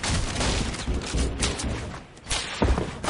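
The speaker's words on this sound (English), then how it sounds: "I can't believe I actually just got sniped in the air" Gunfire in a video game includes a sniper rifle shot, heard as loud booming reports with a short lull before a sharp burst near the end.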